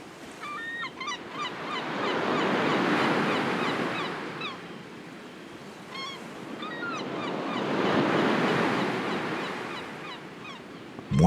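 Sea waves roll onto the shore in two slow swells that build and fade. Faint honking birds call between them.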